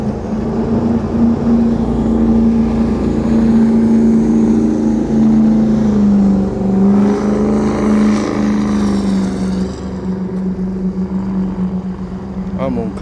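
Motorboat engine roaring steadily as the boat speeds through Haulover Inlet throwing up heavy spray, a loud sustained drone that shifts in pitch and fades slightly toward the end, with a person talking over it.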